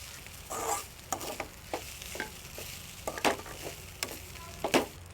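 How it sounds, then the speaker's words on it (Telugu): Cooked rice with carrot is stirred and fried in a hot pan for a children's lunch box dish, with a steady soft sizzle under repeated scraping strokes of a spoon, close and moderately loud. "మనం బాయిల్ చేసుకునేటప్పుడు పొడి పొడిగా ఉన్న రైస్ని ఇందులో మిక్స్ చేసుకోవాలి"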